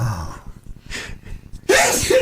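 One loud, close human sneeze bursts out near the end, with a quick breathy intake before it, on a radio talk show set among casual studio chatter.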